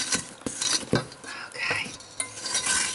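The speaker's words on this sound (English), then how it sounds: "And scrape the sides again." A spatula scrapes around the sides of a mixing bowl of banana cream cake batter, a run of quick close scraping and clinking strokes in an uneven rhythm.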